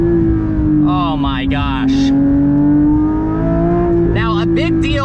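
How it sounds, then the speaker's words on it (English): Manual Porsche 992 GT3 flat-six engine droning steadily from inside the cabin, loud and sustained with a slight pitch rise and fall, while someone talks and exclaims over it. "listen to that flat six. It produces one of the best exhaust notes of any cars in the entire world"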